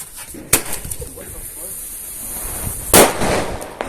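Two sharp firecracker bangs, one early and a louder one near the end, cracking out over a noisy outdoor background with faint voices.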